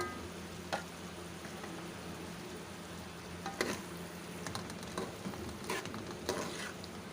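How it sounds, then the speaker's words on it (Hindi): Minced meat keema with green chilies and onion fries in a pan with a steady, close sizzle. Several sharp clicks and scrapes from stirring break through the constant frying hiss. "अब हमने इनको हरी मिर्चों को और प्याज को कीमे के साथ बहुत अच्छी तरह से भून लेना है"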